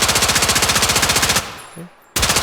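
The Rattler gun in Incursion Red River fires in a fast, loud, evenly spaced automatic burst that stops briefly, then another burst begins.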